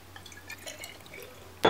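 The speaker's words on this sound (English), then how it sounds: "You want to get your jar and fill it almost to the top" Filtered water is poured into a glass jar, with soft trickling and scattered drips followed by a sudden louder splash at the very end, close and quiet with no talking.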